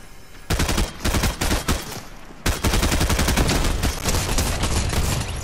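Rapid bursts of automatic gunfire in a Fortnite match, loud and sustained, with a short lull before the shooting resumes in dense, rattling volleys.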